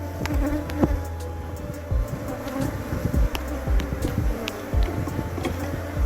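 Honey bees buzz thickly around a capped brood frame at a hive, a dense close swarm drone with individual bees zipping past the listener, steady for several seconds.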